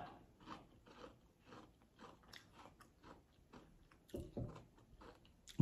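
Crunchy Silky Gem crystal candy is bitten and chewed close up, with about a dozen sharp, irregular crunches spaced through a quiet background and no talking.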